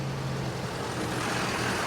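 A truck passes on a busy Paris street, a broad rumbling engine roar that swells steadily and stays fairly close over a couple of seconds, with no talk over it.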